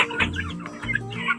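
Young chicks about a month old, part of a small backyard flock of eight, give soft, close clucking and peeping calls in short bursts, with no voices.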